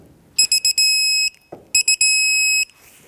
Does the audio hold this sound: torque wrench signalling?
yes